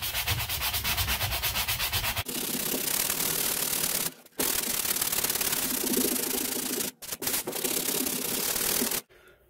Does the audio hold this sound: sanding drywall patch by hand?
yes